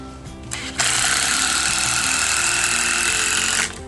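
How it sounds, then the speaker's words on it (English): A power drill drives screws into timber deck boards, whirring loudly and close for about three seconds after a short start-up. "So we just stick a couple of screws"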